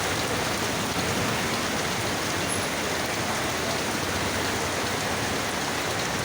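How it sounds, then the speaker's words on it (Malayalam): Steady, dense summer rain in Kerala pours down continuously, a constant hiss of drops hitting surfaces with no voices. "പെയ്യട്ടെ പെയ്യട്ടെ മഴ പെയ്യട്ടെ"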